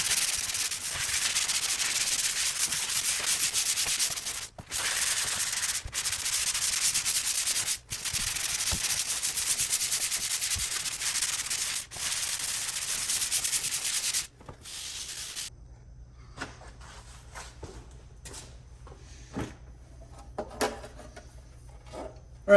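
A drywall patch is sanded by hand with 120-grit sandpaper, a loud, continuous rasping scrape broken by brief pauses, before it gives way to quieter, scattered handling noises.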